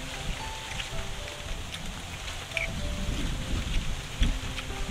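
Rain falls outdoors in a rural field, heard as a steady dense patter with light wind noise on the microphone and a few scattered drips, and no voices.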